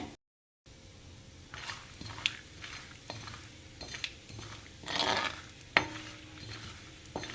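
Cumin seeds and peanuts go into hot oil in a pan while cooking Uttara Kannada style spicy poha (khara avalakki). Scattered clinks and scraping stir strokes sit over a faint, steady sizzle, with a few louder metallic knocks and no talking.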